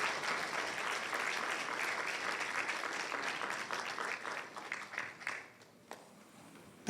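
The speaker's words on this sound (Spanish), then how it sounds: "Un fuerte aplauso al Señor." Congregation applause in a church, a strong sustained clapping that fills the room for several seconds, then thins out and fades to near quiet at the end.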